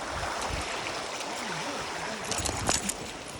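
A flowing mountain stream rushes and splashes in a continuous, close, hissing wash, with some irregular gurgles and brief splashy bursts toward the end.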